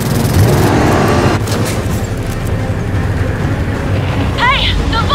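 Antique motorcycle engine roaring continuously in the Gears of War 4 campaign, a loud, steady, close rumble that never lets up, with chaotic game sounds and brief shrill tones near the end.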